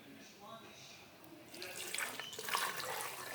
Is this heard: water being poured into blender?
yes